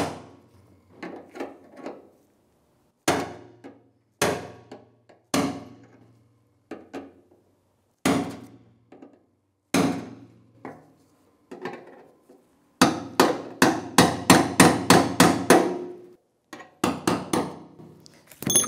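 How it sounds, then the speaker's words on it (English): Sharp metallic hammer taps on a brass punch drive the fuel pump lock ring around on a 1992-1996 Ford F-150 side fuel tank, coming in spaced clusters and then a fast run of close, loud strikes. "Just take your brass punch and spin the ring around."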